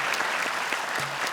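A short burst of steady applause from a TV studio audience at a Quran recitation contest, even and continuous throughout.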